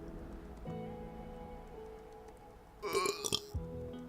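A short, close burp rumbles out in a quiet room amid faint background rustle, a brief low throaty burst lasting under a second.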